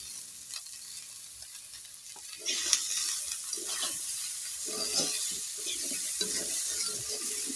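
Onions, ginger and garlic sizzle in hot oil in a village kitchen, a steady frying hiss joined by repeated scraping stirs that grow busier halfway through, close and clear.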